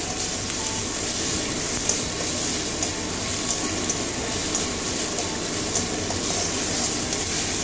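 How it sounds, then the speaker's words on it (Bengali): Ginger-garlic paste fries in oil in a pan for a tamarind-tomato katla fish curry, making a constant, close hiss and crackle with occasional small pops. "আদা রসুনের কাঁচা গন্ধ যাওয়া পর্যন্ত ভাজবো"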